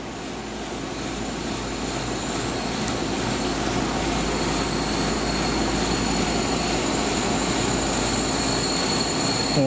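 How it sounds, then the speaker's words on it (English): Nitrogen gas hissing steadily through an air-conditioner liquid line as a regulator is eased open at about 100 psi, during a Goodman evaporator coil and condenser changeout; a continuous, fairly loud rushing whoosh with no talk. "So I'm gonna start opening the regulator here, letting some pressure go through here"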